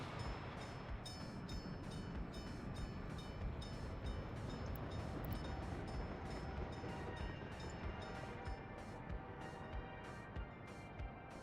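Train rolling through a depot in the Inter City Rail video game, a steady continuous rumble with faint rhythmic clatter and high repeating clicks, loud and unbroken throughout with no talk.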